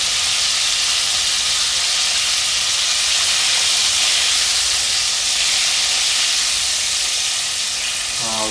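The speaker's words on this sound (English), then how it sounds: "So we're going to fry these for about 6 minutes" Chicken wings for Korean fried chicken sizzle steadily in hot oil, a dense, even hiss that stays loud and close throughout with no talking.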